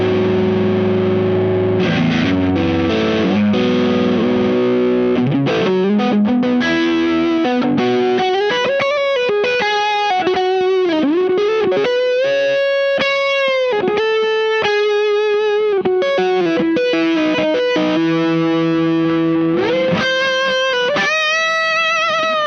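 Overdriven electric guitar played through a Dazatronyx TSX Tube Screamer-style overdrive pedal, switching between standard, asymmetrical and fat modes; loud, continuous riffs and sustained chords with no talking.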